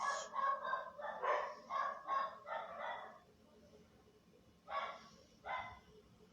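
Several dogs bark in a quick run of repeated yelps, then pause and give two more barks, medium distance and fairly loud, with no talk over them during an online Black Lives event.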